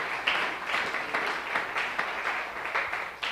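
A church congregation at an IPUC Sunday school service claps in praise, an even, rhythmic applause with individual claps audible in a moderately sized room, fairly close and continuous, no speech on top.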